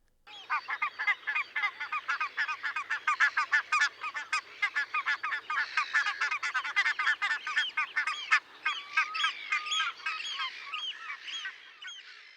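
Many barnacle geese calling at once, their rapid yelps overlapping into a dense, continuous cacophony that stays loud throughout.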